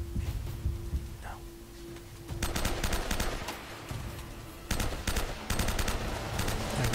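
Bursts of gunfire in Uncharted: Drake's Fortune, repeated sharp volleys firing in rapid clusters over a constant low game hum, fairly loud and close with brief gaps between bursts.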